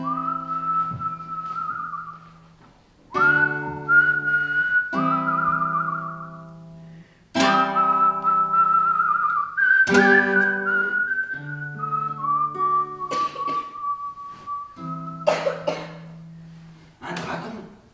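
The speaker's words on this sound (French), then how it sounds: "il se tourne vers le lac et siffle au vent ce petit air." A person whistles a simple little melody in several sustained phrases separated by brief pauses, close and clear, with occasional throat clearing and coughs between the phrases.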